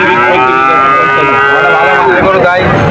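A young Jersey heifer calf moos loudly and close by at a busy cattle market, one long drawn-out call with people talking faintly around it.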